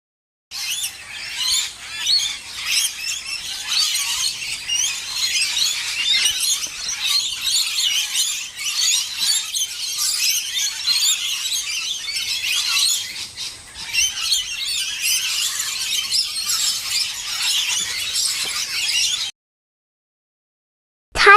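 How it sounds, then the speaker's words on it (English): Birds chirping and squawking continuously at close range for about twenty seconds. The high calls are dense and overlapping, then stop abruptly. "Bird."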